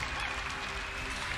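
A large arena crowd at the IEM Katowice StarCraft II grand finals gives dense, continuous applause and cheering for the champion, loud and steady throughout this short stretch.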